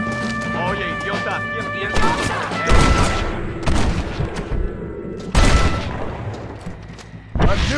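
Gunfire rings out in a Red Dead Redemption poker-game shootout, with several loud, sharp bursts of shots spread across the scene and voices heard between them.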